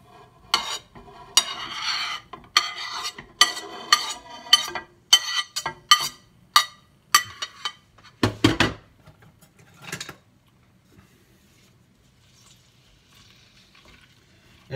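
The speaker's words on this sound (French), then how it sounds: "dès que l'huile est chaude, je mets le céleri, les oignons" Celery, onions and tomatoes go into hot oil for a cod with olives and tomatoes dish: a quick series of close clinks and stirring scrapes against the pan over a faint sizzle, then a louder clatter before it quiets to a low hiss.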